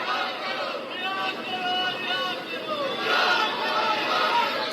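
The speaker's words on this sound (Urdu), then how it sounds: "نعرے بازی بھی آپ کو نظر آ رہی ہے، آپ کو سنائی دے رہی ہے۔" Protesters chanting slogans at D-Chowk, Islamabad, a dense crowd din with rhythmic voices rising and falling, heard from some distance amid general hubbub.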